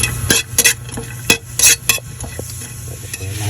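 Chopped onion sizzles and fries in a heated pan, with a utensil stirring and scraping against the metal in several sharp bursts over a steady low sizzle, close up and without talk.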